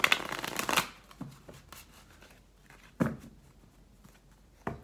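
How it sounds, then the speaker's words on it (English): Oracle outcome cards are shuffled in a brisk riffling burst at the start, followed by a few sparse, close taps and card flicks in a quiet room. "Okay, so Leo, let's pull a couple outcome cards real quick here"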